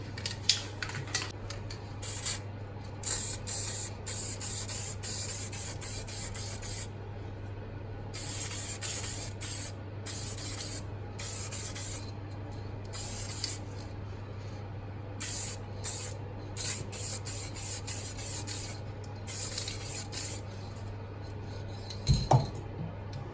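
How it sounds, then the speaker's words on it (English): Steady hiss of a can of silver spray paint in short bursts over a low hum, with a brief clink near the end, while painting a Classic Mini part. "I'm just going to spray this one silver"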